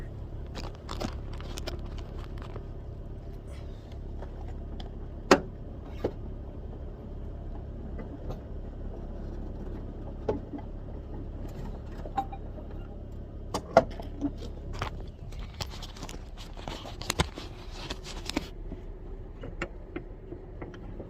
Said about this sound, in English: So you just keep cranking it, and then it lowers it.